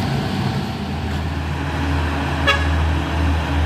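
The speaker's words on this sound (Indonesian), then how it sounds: "ini ada truk Puso dan truk Pau trailer." A Fuso truck and a trailer truck roll past on a hilly road at Bukit Kodok, a low steady engine rumble with a short horn toot partway through.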